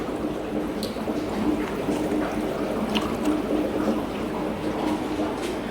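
Water and fish food poured from a cup into cichlid aquarium tanks, a steady trickling splash lasting several seconds with continuous liquid wash and faint drips, close and moderately loud.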